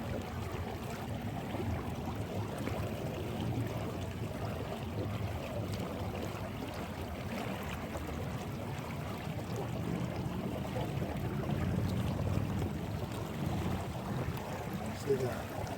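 A Colorado XT inflatable pontoon boat cruising on water: a steady, continuous rushing wash of water and wind noise with a low rumble, holding an even level throughout.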